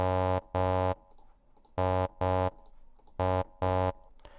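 A synthesized "ah" vowel with two added higher formants plays as six steady tones in three pairs. Each tone is bright and harmonic-rich, separated by short gaps of near-silence, with no voices.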